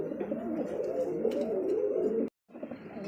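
Beauty Homer and German Beauty Homer pigeons coo continuously at a pigeon market, a close, steady, low burbling that briefly cuts out near the end.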